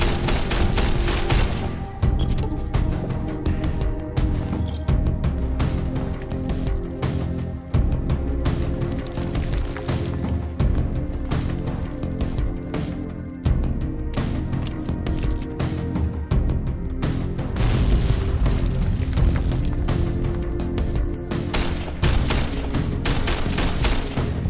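Explosions and gunfire erupt in Fallout: New Vegas, dense rapid bursts of shots and booms loud and continuous, layered under a sustained low rumble for the whole stretch.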